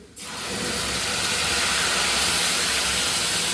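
Tomatoes hit a hot pan and a loud, close hiss of sizzling starts suddenly, then swells and holds steady.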